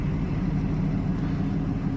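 A Daimler car engine idles just after starting, a steady low rumble that stays even and close for the whole short stretch, with no voices over it.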